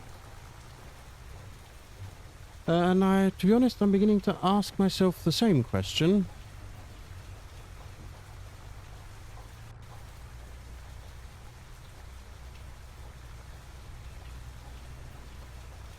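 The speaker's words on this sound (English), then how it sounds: "why is he doing that in the complete and utter pouring rain?" Steady rain pours in a Farming Simulator 25 game world, a continuous broadband hiss that runs throughout, while someone talks over it for a few seconds near the start.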